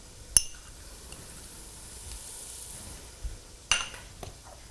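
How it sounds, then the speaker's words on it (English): Onions cooking in a soup pot give a faint, low sizzle, broken by two sharp metallic clinks of a spoon against the pot and soft stirring sounds. "just stir that around. Let that cook with the onions."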